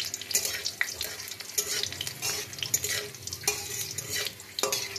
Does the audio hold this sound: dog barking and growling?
no